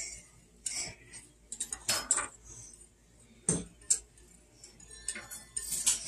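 A spoon scrapes and clinks against a pot while bacon gravy is stirred, leaving sparse, sharp metallic taps and scrapes scattered among quiet gaps, close by, with a voice talking faintly in between.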